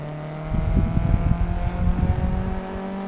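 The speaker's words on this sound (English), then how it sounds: "He's attempting to do some drift manoeuvres." Race car at Donington Park attempting drift manoeuvres, a steady droning engine note with a rough, churning low rumble pulsing over a few seconds, loud and close.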